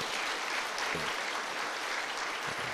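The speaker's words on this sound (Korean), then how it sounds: "먼저 교회 90주년 동안 우리 교회 주인 되신 하나님께 먼저 감사하는 박수를, 찬양을 드렸으면 좋겠습니다." A church congregation applauds during a 90th-anniversary thanksgiving service at Seogwipo Church, with a sustained, even wash of many hands clapping throughout.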